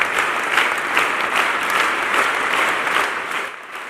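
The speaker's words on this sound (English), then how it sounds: "Apostle Grace Lubega and his congregation were unwavering in their determination, clapping non-stop for the entire duration of the record-breaking event" Congregation led by Apostle Grace Lubega clapping non-stop at a record-breaking clapping event, a dense, loud, steady wall of applause with rhythmic surges that eases slightly at the end.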